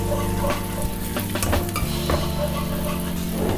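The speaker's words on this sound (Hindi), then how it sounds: "मैं इसको प्याज डाल दूंगी इसके में ऑयल में और गरम मसाले में और इसको फ्राई करूंगी" Onions fry in hot oil with garam masala for mutton masala dhuwan gosht, a dense close sizzle with repeated stirring scrapes and occasional sharp utensil clinks against the pot.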